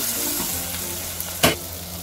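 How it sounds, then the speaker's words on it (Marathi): Coriander, pumpkin and drumstick pods sautéing in a pan for sambar, a steady soft frying hiss with one sharp scrape of a stirring spoon. "थोडी कोथिंबीर पण टाकू. छान परतू."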